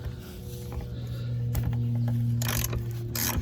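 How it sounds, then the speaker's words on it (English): Ratchet fitted with a 10mm socket loosening bolts on a 2002 Ford Escape: quick clicking bursts of the pawl over a steady low hum, close and fairly loud, with no talk. "So I think I'm gonna take these two bolts off."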